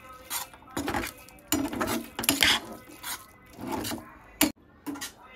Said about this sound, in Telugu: రోస్ట్ చేసుకున్న జీడిపప్పుల్ని ఈ పొంగల్లో కలుపుకుందాం. ఇలా బాగా అయితే మిక్స్ చేసేసుకోవాలి.